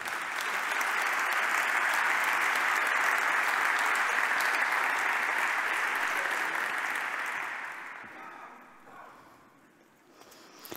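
Dense audience applause at an award ceremony for a business forum, sustained and even for several seconds before fading away toward the end, with no talk over it.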